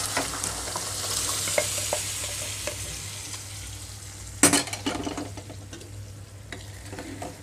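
Cooked dal being added to a green chilli tempering in a pan for a Rayalaseema-style green chilli dal, with a faint sizzle, scraping stirs and one sharp clatter midway, close and without talk.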